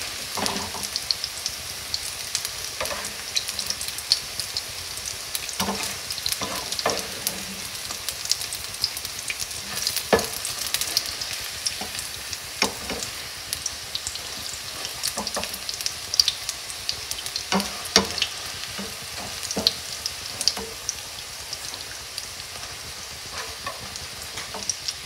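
Carrot fritters sizzle steadily in hot oil, a continuous crackling hiss broken by occasional louder pops and stirring scrapes, close and moderately quiet with no talk.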